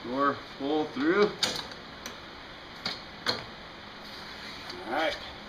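The door latch on a 2000 Audi A4 Quattro is cycled through its full travel, giving several sharp, close mechanical clicks spaced irregularly, with someone talking briefly before and after them.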